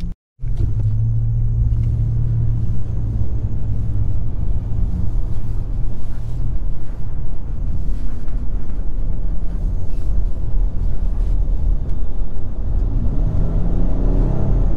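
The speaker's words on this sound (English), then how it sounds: "Go ahead and hit the highway and see how the ride noise is at highway speeds" A 2022 Nissan Frontier Pro-4X mid-sized pickup weighing 4,700 pounds cruises at highway speed. Steady, loud road and wind rumble fills the cabin without letting up, and no one speaks.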